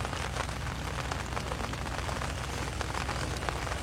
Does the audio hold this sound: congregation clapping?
no